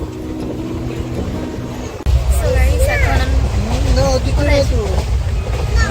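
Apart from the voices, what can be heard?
train running on rails while curving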